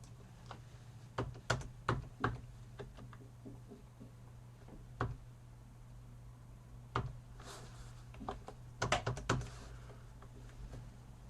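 Typing on a computer keyboard while working in a Lazarus database application: scattered clusters of sharp key clicks with pauses between bursts, fairly close and alone over a steady low hum.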